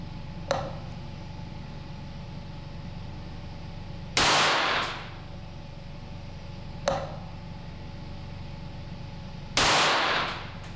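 Four sharp rifle shots fired with Eley Standard bulk ammunition during a 10-shot group, spaced several seconds apart, each a loud crack with a short decaying tail over a steady low background hum.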